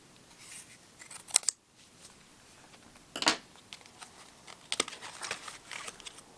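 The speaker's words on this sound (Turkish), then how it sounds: "Şu bandrolü açalım." A tax stamp band being pulled open on a package of Mattpear Ceviz pipe tobacco gives three short, crisp bursts of crinkling and tearing close by, with quiet pauses between them and no talk.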